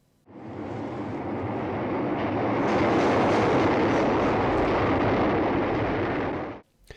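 A subway train rushes through a tunnel, its roar swelling from near silence into a loud, dense rumble that holds for several seconds before cutting off abruptly.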